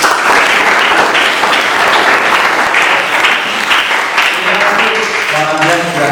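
A classroom audience bursts into loud, sustained applause for a guest, dense clapping filling the room throughout.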